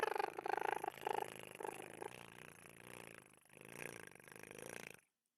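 A person imitating a cat's purr during a Dragon Age Inquisition livestream, a low rolling rumble held for about five seconds, close and fairly quiet, then cut off.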